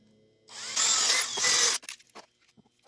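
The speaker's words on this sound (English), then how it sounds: "we're going to pre-drill the holes" A power drill pre-drilling holes in garden chair boards whirs loudly for about a second, pitch shifting as it bites into wood, then stops, followed by scattered clicks and taps.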